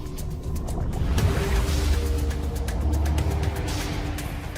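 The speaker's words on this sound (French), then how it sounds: "Je mets le moteur en marche." Submersible motor started for a deep-sea dive in the South Pacific off the Solomon Islands, a steady low rumbling drone with a faint whine, continuous and fairly close, with washing water noise and no talk.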